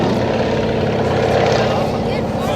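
An Antonov An-6 Colt biplane makes a short takeoff at the MCAS Miramar airshow, its propeller engine giving a loud, continuous drone with a voice faintly beneath it.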